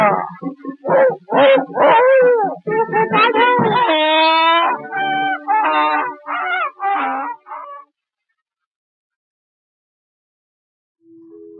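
A voice imitates a dog howling and yelping within a Marathi song: a run of wavering, drawn-out howls for about eight seconds, then silence and a faint note at the end.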